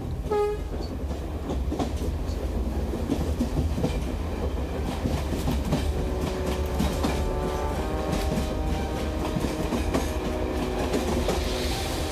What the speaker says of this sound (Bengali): পেছন থেকে শুনতে পেলাম ট্রেন হর্ন দিয়ে এগিয়ে চলেছে